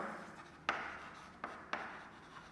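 Pen or marker writing out a math question, faint scratchy strokes with three sharper taps as the tip touches down, over a quiet room hum.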